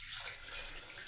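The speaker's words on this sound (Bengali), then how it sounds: "দেখুন জল দিয়ে দিলাম" Water pouring into a pressure cooker for boiling raw green bananas, a steady rushing splash lasting about a second, with no voice over it.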